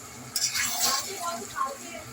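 Chilli chicken stirred in a pan on a gas flame, sticking slightly at the bottom: a brief stretch of scraping spatula strokes against metal with faint sizzling, close and moderately loud.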